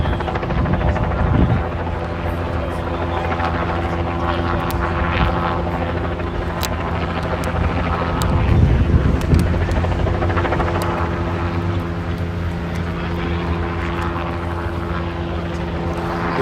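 A helicopter flies overhead outdoors at a campsite, its steady rotor drone loud and continuous throughout, swelling slightly as it passes closest, with no talking.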